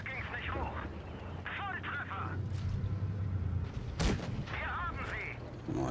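Tank cannon shots in World of Tanks Blitz, on a snowy battlefield with a Jagdtiger 8.8, ring out as a sharp, loud blast near the end, amid a rumbling engine drone and voices talking.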